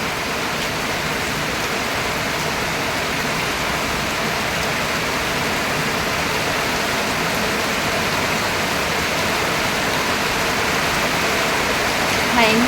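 Heavy rain pours down in a dense, unbroken roar of falling water, loud and constant for the whole stretch.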